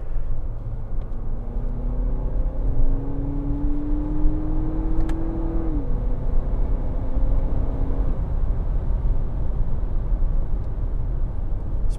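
Steady, muffled engine and road rumble from inside a 2024 Lexus TX 350 three-row SUV in sport mode, with a faint rising tone as it pulls, continuous and even, with no talking.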